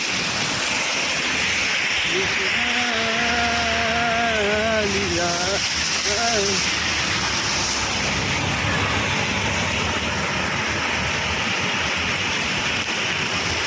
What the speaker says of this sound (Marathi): भरपूर पाऊस चालू आहे